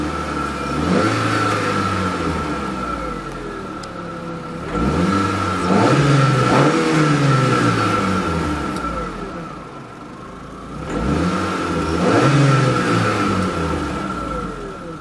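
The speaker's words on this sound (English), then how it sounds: "let's see what kind of noise this car produces." The 1.6-liter engine of a TagAZ Aquila car revs hard three times, each loud rise and fall of engine pitch separated by a steadier idle, with no talking.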